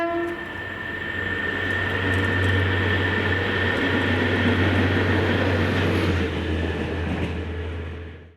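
Class 73 locomotive 73.970 hauls a train toward Polmadie Carriage Maintenance Depot in Scotland, a loud steady diesel drone with a strong low hum sustained throughout and fading slightly at the end.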